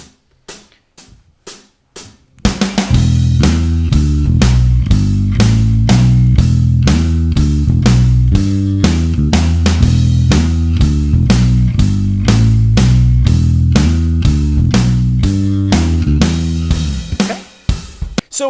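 Bass guitar playing a riff in 7/4 time: a few plucked notes, then a loud, driving, repeating odd-meter pattern with a steady pulse, close and full, fading out at the end.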